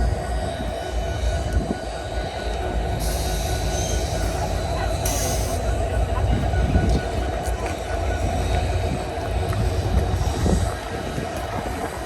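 A train runs past steadily at close range, with the rumble and rattle of rail cars and some high wheel squeal near the Abraham Lincoln locomotive, in a crowded small town where a large steam locomotive is pulling out.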